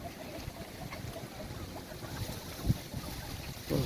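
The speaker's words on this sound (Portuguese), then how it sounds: "Vento forte, muito forte mesmo." Strong wind blows outdoors in the Veredo neighborhood of Ribeirão das Neves, Minas Gerais, a dense, constant roar buffeting the microphone, with one sharper gust near the end.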